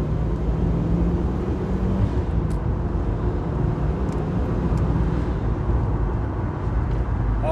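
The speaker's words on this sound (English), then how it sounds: "Let's get out in this car now." A Mitsubishi Evo 6 is driven on the road, heard from inside as a steady low engine and road drone at an even pitch, with no talk over it.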